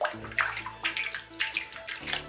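Water splashes and sloshes in a tub during a hedgehog's bath, with repeated bursts of splashing and dripping over running water, close and fairly quiet, no speech.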